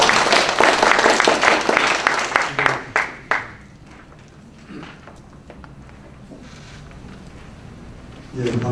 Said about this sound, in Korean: 박수로 좀 맞아주시고.